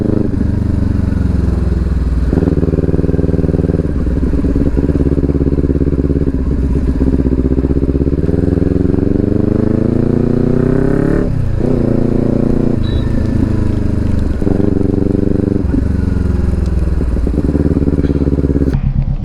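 A Kawasaki Ninja 400 fitted with a loud Akrapovic exhaust rides by up close, its engine rising and falling through the gears with a rapid, raspy note and sharp revs, steady and loud throughout.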